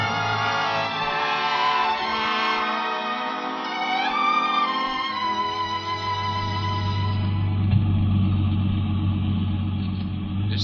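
A taxi cab engine idles and runs as a radio drama sound effect, a steady low hum that grows fuller and more prominent in the second half, with no talk over it.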